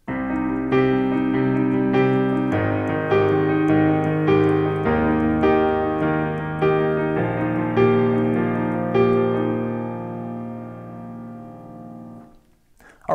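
Piano accompaniment to a song, a right-hand pattern repeated twice over sustained bass notes; steady, full and close, played alone with no talking and a soft fade at the end.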